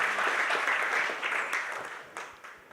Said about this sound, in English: Round of applause for Twiva.